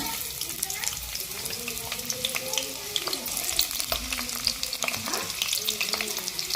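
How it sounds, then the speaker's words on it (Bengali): Chopped onions sizzle in hot oil in a wok for a soybean curry, a steady close frying hiss with light clinks of stirring throughout. "তেল দিয়ে দিলাম পেঁয়াজ কুচি দিয়ে দিলাম"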